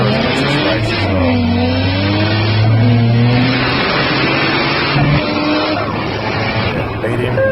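A VY V6 turbo Commodore roll racing a 710 hp FG F6U, its engine roaring loud and close with rising revs and a brief tire squeal, under steady talk throughout.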